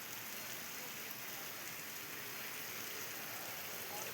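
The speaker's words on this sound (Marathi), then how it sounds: "शहरामध्ये अवकाळी पावसानं जोर धरलेला आहे" Heavy unseasonal rain falls over the town of Barshi near Solapur, making a faint, even hiss that continues without a break and with no voices.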